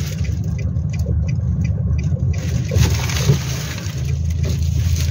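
A 2024 Nissan Navara PRO-4X pickup truck drives slowly during a turning radius test, its engine a steady low hum and rumble heard from inside the cab, with faint wind and road noise.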